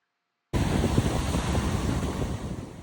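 Ocean surf rolls onto the beach in front of the Sheraton Kauai Coconut Beach Resort in Hawaii, a continuous broad wash of waves with some wind noise, starting abruptly and staying steady.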